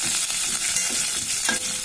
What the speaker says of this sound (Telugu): ఇది బాగా వేయించుదాం.